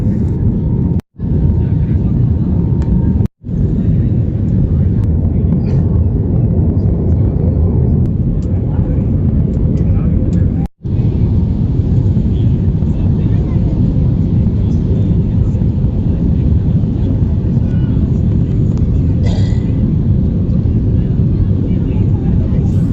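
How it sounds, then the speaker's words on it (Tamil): Loud, steady engine roar and rushing air inside an airliner cabin during descent, a constant low drone with a few brief dropouts. "ஃப்ளைட்டு கொஞ்சம் கொஞ்சமாக கீழே இறங்குது."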